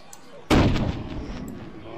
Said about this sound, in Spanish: El disparo me espantó